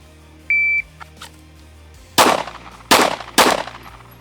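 Three loud, sharp pistol shots fired close in a timed drill at steel plates, evenly spaced about half a second to a second apart, preceded by a brief electronic shot-timer beep.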